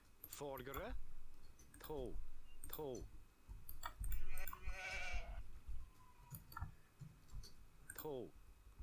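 Sheep in the strategy game Age of Empires II give short, wavering bleats, about four spread across several seconds, alongside crisp interface clicks and quieter game effects.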